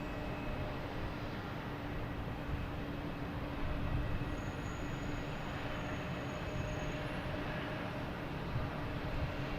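A Delta Embraer E170 jet from Philadelphia comes in to land at Boston Logan Airport. A steady, broad roar with a faint whine above it holds at an even level throughout.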